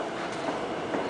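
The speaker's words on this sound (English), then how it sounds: "This is the Seibu Ikebukuro line, and the next train heading away from Ikebukuro is at 6:03." Steady rumble of a Seibu Ikebukuro line train at a Tokyo station at the start of rush hour, a continuous broadband roar with no clear clatter peaks, moderately loud and uninterrupted, with no voices.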